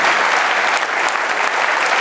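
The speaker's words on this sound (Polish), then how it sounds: "Wielkie brawa dla obu zawodników." Audience applause after the referee's decision in an amateur Muay Thai bout at a fight night, a dense, loud, continuous burst of clapping filling the hall.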